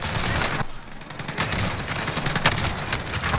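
Rapid, continuous gunfire in the Call of Duty Warzone video game, with a shotgun involved. Loud, dense volleys of shots fill the whole stretch with barely a pause.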